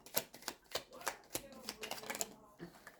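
Tarot cards are handled and flipped over on a table, producing a series of close, crisp slaps and snaps at uneven intervals, with some quiet shuffling in between.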